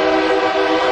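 Sustained horn of a passing train near a baseball ballpark, a steady loud multi-tone blare holding for the whole moment without break.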